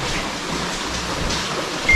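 Steady rain falls outside a leaking room in a remote mountain building, a dense, even hiss that continues without pause, fairly close, with a brief louder swell at the end.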